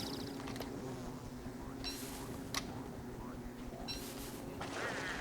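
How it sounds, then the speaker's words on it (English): Buzzing of bees in the Don't Starve: Reign of Giants video game, a faint steady drone under a low ambient hum with a few brief high-pitched game effects, no talk over it. "Oh, these must be homeless bees."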